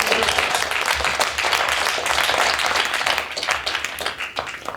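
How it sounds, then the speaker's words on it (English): An audience at an art centre panel discussion on psychedelic art claps in a sustained round of applause for the studio, loud and dense throughout nearly five seconds. "let's give the studio a round of applause just for doing all this"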